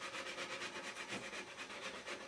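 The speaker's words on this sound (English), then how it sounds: "Now I'm going to sand up to the edge of that" Steady rhythmic back-and-forth rasping of sandpaper on a painted surface, knocking down the gloss up to a marked line; close, continuous strokes with no talk.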